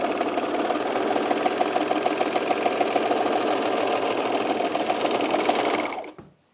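A sewing machine stitches men's jeans in one continuous, steady run around a corner without stopping, its rapid mechanical rhythm loud and close before it cuts off abruptly at the end.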